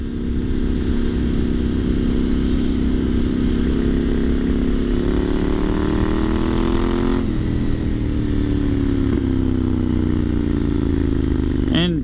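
A Triumph Scrambler 900 motorcycle engine runs loudly and close, its aftermarket exhaust rumbling steadily, with the pitch rising and falling as the throttle is blipped.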